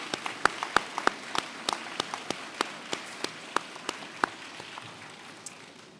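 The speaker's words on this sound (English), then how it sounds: "please turn and join me in a round of applause" A small crowd at a 2019 college commencement in Middle Georgia claps in thanks, with sharp separate claps standing out over a soft patter that gradually thins and fades toward the end.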